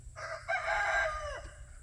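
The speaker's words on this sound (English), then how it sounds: "The chickens and roosters are all out and about" A rooster crows loudly and close by in one long drawn-out call, with other chickens clucking faintly around it.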